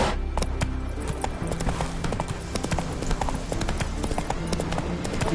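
Roach, Geralt's horse in The Witcher 3 video game, gallops with steady, rapid clip-clopping hoofbeats, close and continuous, over a busy game soundscape, with a little faint vocal sound mixed in.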